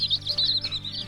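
Bright, rapid high-pitched peeping from small Zambro chicks, continuous and close, over a low steady hum.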